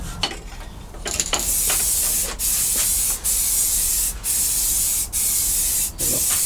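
Paint is sprayed onto Mk2 Golf 16V engine parts in short, loud, close hissing bursts, five or six of them, each separated by a brief pause.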